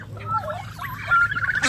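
Several large male turkeys gobble and squabble among farmyard fowl, bursts of harsh warbling calls rising and falling over a low steady hum, fairly near and moderately loud across the brief stretch.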